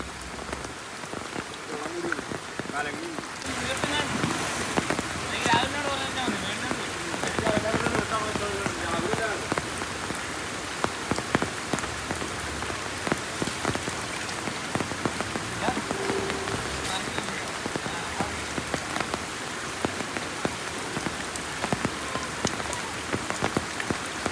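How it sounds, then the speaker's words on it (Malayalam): Heavy rain pours down steadily, a dense hiss of drops drumming on surfaces with gusting wind throughout; faint voices are briefly audible beneath it. "മഴയോടൊപ്പം ശക്തമായ കാറ്റും അനുഭവപ്പെട്ടു"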